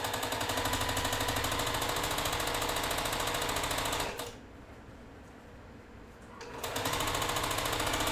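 A sewing machine stitches quilt fabric in a steady, fast whir. It stops for a couple of seconds partway through, then starts again at the same even pace, close and alone.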